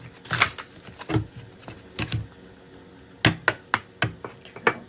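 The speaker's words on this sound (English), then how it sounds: "My decks just flip as I'm shuffling." A deck of cards being shuffled by hand, a series of quick riffling snaps and flicks in irregular bursts, close and fairly loud with quiet gaps between.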